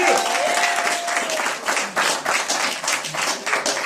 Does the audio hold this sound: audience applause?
yes